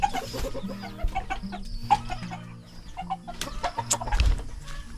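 Rhode Island chickens clucking and calling in a backyard, a series of short bright clucks scattered through the clip over soft ambient noise, with a louder thump near the end.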